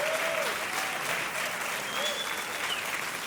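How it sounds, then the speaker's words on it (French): A church audience applauds its graduating students with a dense, steady wall of clapping that lasts throughout, with a voice faintly audible underneath. "J'aimerais qu'on fasse un tonnerre d'applaudissements pour chacun d'eux."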